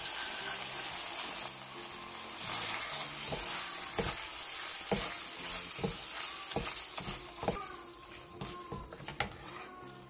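Cooked meat gently tossed in a pan with oligosaccharide syrup, sesame oil and sesame seeds, giving a soft sizzle under repeated close spatula scrapes and taps in an irregular rhythm.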